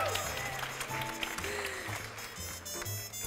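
Applause from an audience at a school scholars recognition ceremony, a steady wash of clapping mixed with crowd noise and low rumble, moderately loud throughout.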